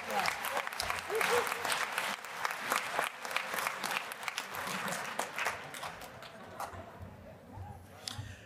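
Applause from a convention audience at a general session honoring council nominees, a dense sustained clapping that swells early and tapers toward the end, with some voices mixed in.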